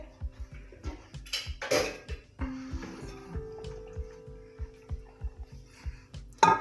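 A metal degchi cooking pot clanks and scrapes repeatedly at close range, with irregular knocks, clinks and a brief ringing tone as it is moved about.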